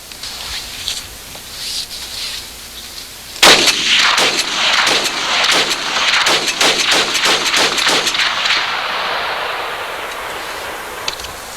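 Rifle fired in a rapid string of sharp, loud shots, about a dozen reports in quick succession over several seconds, followed by a fading hiss.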